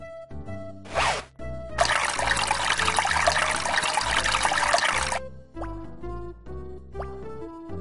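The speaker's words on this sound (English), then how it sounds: "The water coming out of the sink is brown." Brown water runs from a bathroom sink in the Leisure Suit Larry 6 adventure game, a short splash then a steady gushing stream for a few seconds, framed by brief musical tones before and after.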